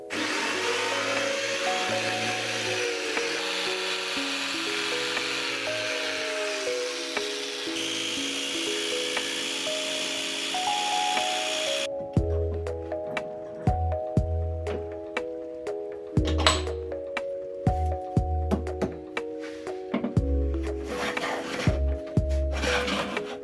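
A wood blank for a Lord of the Rings-themed bass guitar body, cut with a jigsaw and then planed: a whining power tool drones steadily for about twelve seconds, then comes repeated bursts of cutting and knocking.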